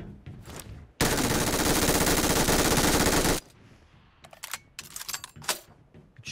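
A continuous loud burst of automatic gunfire in a shooter video game lasts about two and a half seconds, followed by scattered sharp, clicking sounds and quieter action noises.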